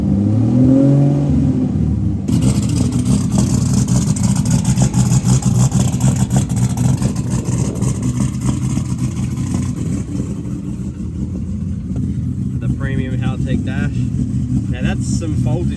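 A VL Turbo car revs hard through a tyre burnout at an outdoor event, its loud sustained engine roar steady throughout with crowd noise beneath and voices talking over it.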